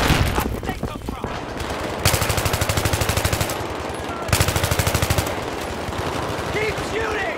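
Sustained automatic gunfire from the video game Battlefield 3, loud bursts of rapid machine-gun shots with brief pauses, mixed with shouting soldiers' voices during a firefight.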